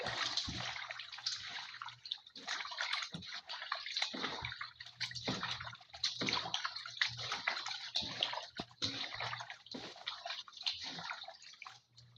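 Water sloshing and splashing as fish are soaked in a basin to make dried fish, continuous close wet swishing and dripping with brief pauses, no talking.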